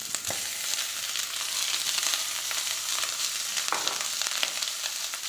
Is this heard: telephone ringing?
no